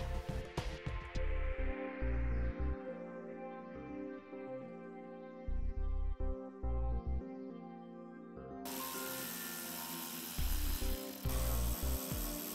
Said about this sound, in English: we'll move to the wheel well, where there are multiple push pin and screw-in fasteners to remove